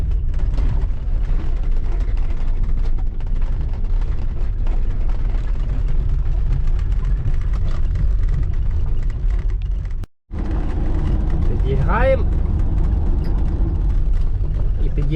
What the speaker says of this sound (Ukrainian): Наш муравей їде. Помаленько перша передача.